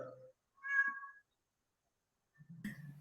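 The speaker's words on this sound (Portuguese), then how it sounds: "Tinha um gato aqui, tá um gato, não tem?" A cat meows twice, close and clear: a short call, then a longer, rougher one after a pause, in an otherwise quiet room during an online webinar.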